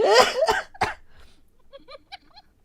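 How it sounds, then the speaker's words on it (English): Three harsh coughs close up in quick succession, followed by faint, quieter sounds trailing off. "I'm worried I'm not gonna be able to stop coughing"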